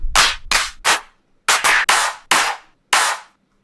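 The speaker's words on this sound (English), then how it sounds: "All right, we'll do a clap." Seven punchy electronic clap hits from a dubstep drum groove sample play alone, dry and loud, spaced in a loose rhythm with short decaying tails.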